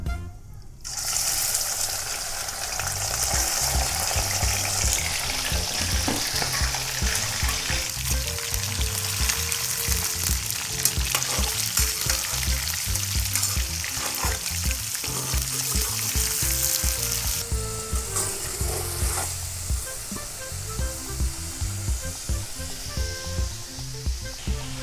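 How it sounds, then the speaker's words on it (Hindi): Half a kilo of chicken frying in ghee over browned onions for chicken karahi, a loud, dense, continuous sizzle with bubbling and occasional stirring that fills the whole stretch, without any talk. "उसमें अब हम जो आधा किलो चिकन है हमारे पास, ये हम डाल देंगे। इसको अच्छे से फ्राई करेंगे।"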